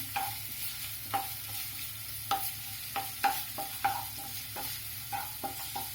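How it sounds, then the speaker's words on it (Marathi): Crushed garlic and ginger sautéed in oil for corn pulao, a soft steady sizzle broken by spatula scrapes and taps against the pan, close and fairly quiet, with no voices. "आणि आलं घालणार आहे, आणि चांगलं जरा परतवून घेणार आहोत आपण।"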